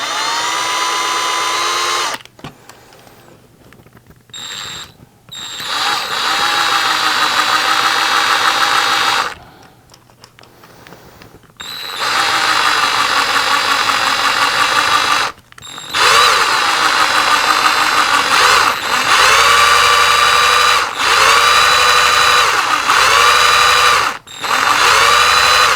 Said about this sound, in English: So just get your drill bit lined up to the hole that you decided is best for you